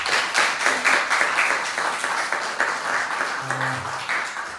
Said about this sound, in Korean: 함께 축하와 격려의 박수 한번 치도록 하겠습니다